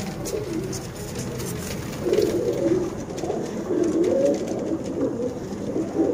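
Pigeons coo in a loft, low throaty rolling calls that swell and overlap for several seconds, fairly close and unaccompanied by speech.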